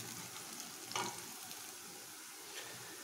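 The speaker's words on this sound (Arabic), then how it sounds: "نزل الفلفل الأخضر في النص وقلبوه شوي" Green chilies fry in a pan, giving a soft, steady sizzle at low volume, with a utensil stirring and tapping now and then.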